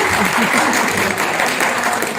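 Guests at a party clap together in a dense, continuous burst of applause lasting a couple of seconds, loud and close.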